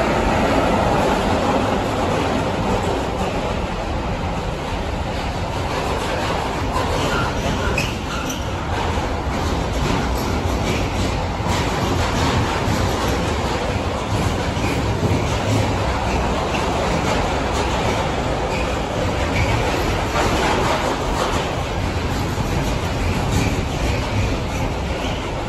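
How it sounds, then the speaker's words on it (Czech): A Traxx locomotive hauling a freight train and a Vectron locomotive on a EuroCity passenger train pass each other at a station platform, producing a loud, sustained, close rumble and rattle of wagons that lasts the whole time. "Následuje setkávačka Traxe od Metranců s nákladem a Vectrona s logem Praha Dresden Berlin Hamburg"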